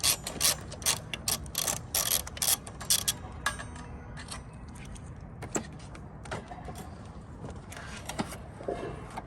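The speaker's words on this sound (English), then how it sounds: "Let's undo that remaining nut on the carrier and take it off." A ratchet rapidly clicking as it undoes a nut on a scooter carrier, loud and close at first, then fading to quieter intermittent mechanical clinks and handling noises, no talking.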